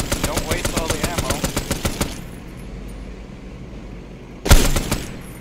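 Automatic gunfire in the jungle in the military game ArmA 3, a rapid loud burst of about a dozen evenly spaced shots, a quieter pause, then another sharp burst close by.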